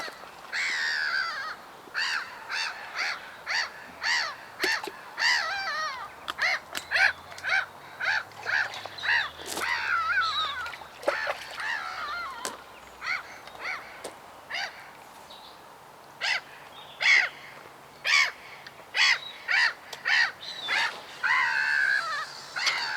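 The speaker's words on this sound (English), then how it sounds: "What the seagulls are like in their little free feed anyway." Seagulls call repeatedly while feeding at a fishery lake, a busy, overlapping chorus of sharp squawks and cries, fairly close, with no talking.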